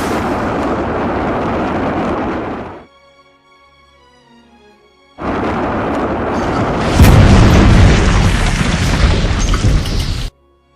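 Video game battle during the firing phase, heavy artillery booms and gunfire bursting loudly, a pause near silence, then renewed dense explosions and firing that cut off abruptly.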